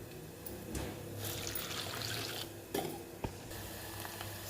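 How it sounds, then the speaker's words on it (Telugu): Water pours from a vessel onto a cup of flattened rice (poha) set to soak, giving a close, steady splashing stream followed by a couple of small knocks. "ఇంకొక కప్పు అటుకలు తీసుకున్నాను ఇందులో వాటర్ అనేది వేస్తున్నాను ఇప్పుడు"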